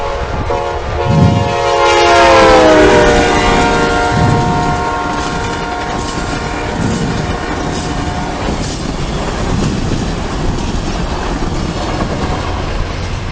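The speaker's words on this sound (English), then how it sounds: "as the train approaches us, listen to the sound of the train" A train approaching and rumbling past, with a loud horn blast early on, then steady wheel clatter and rushing noise that gradually fades.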